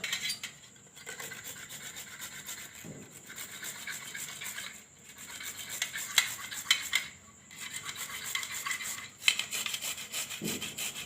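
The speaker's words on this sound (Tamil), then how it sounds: "இப்போ எல்லா இஞ்சியும் துருவி எடுத்தாச்சுங்க" Fresh mango ginger scraped across a vegetable grater, giving a steady rhythmic rasping with brief pauses between strokes, close and fairly loud with no talking.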